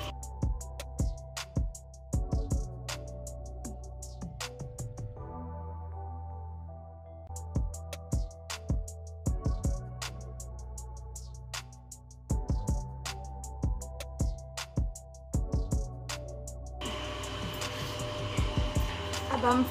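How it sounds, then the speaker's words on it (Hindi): A sewing machine stitches a triangle-style trouser in short, rhythmic bursts of whirring separated by brief pauses, close and fairly quiet, ending in a longer run. "अब हम ऊपर से सिलाई करेंगे।"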